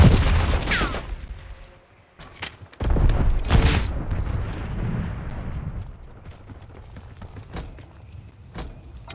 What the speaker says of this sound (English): Painting napalm strike location.